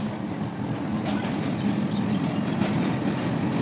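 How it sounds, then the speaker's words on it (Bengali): A train pulls into a railway station crowded with waiting people, a loud continuous low rumble of wheels and carriages with faint rattling on top, steady throughout. "অবশেষে ট্রেন চলে এসেছে।"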